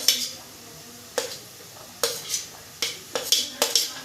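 Chopped beans, carrots and green chillies tossed in a hot pan over a high flame, heard as sharp scraping and clinking strokes of a utensil about once a second, each followed by a brief soft sizzle.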